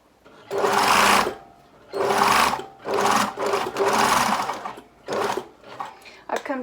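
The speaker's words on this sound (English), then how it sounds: "and carry on sewing." A sewing machine stitching bias binding runs in several loud bursts of rapid whirring, each lasting a second or less, separated by short pauses.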